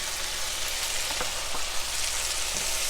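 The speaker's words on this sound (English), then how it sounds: "So these vegetables are cooking pretty quickly." Vegetables fry in a hot pan while a pork chop meal is cooked, giving a close, steady sizzle with crackling pops scattered throughout and no talk over it.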